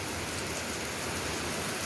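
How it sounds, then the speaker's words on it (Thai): Heavy rain pours down near a riverside hut, a dense, even hiss of water that fills the whole stretch without a break and has no voices. "ก็ตื่นมาฝนตกหนักมากนะครับ"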